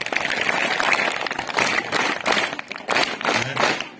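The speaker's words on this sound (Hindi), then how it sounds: "एक बार जोरदार तालियां" An audience claps and applauds at an event, with irregular bursts of hand claps rising and falling in loudness over a few seconds.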